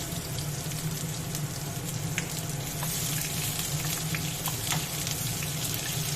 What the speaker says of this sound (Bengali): এবার আমি পেঁয়াজগুলো দিয়ে ভেজে নিচ্ছি।